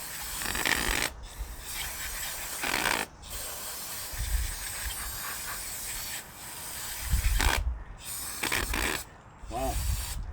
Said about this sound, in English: We got our carb cleaner here.